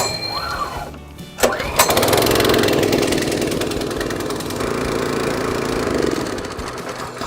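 A small petrol scarifier engine is pull-started with choke on and a couple of recoil yanks, then catches and runs steadily at a loud, rough idle close by.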